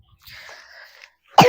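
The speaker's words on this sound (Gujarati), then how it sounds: "એની ઉધરસ જ તમારે સાંભળવાની" A single sharp cough bursts out near the end, loud and close, preceded by a faint tonal hum and near silence.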